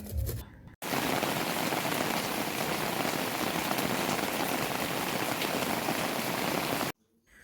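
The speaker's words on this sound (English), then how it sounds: "And so it rains for a few minutes, then it stops for a few minutes" Steady, dense rain pouring down onto a surface in the Kenyan countryside, a continuous close hiss of drops that starts abruptly and cuts off just as suddenly near the end.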